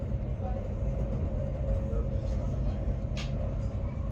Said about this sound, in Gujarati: ટ્રેન છે